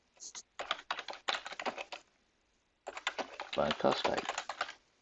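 Rapid keystrokes on a computer keyboard as a report title is typed, coming in bursts of clicking with a short pause between, close and moderately loud, with brief speech overlapping.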